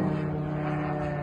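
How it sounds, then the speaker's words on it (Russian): A drone flies during an attack on a gas terminal in Russia's Leningrad region, giving a steady, loud, droning engine hum with a constant tone throughout. "Дрон от базы летит."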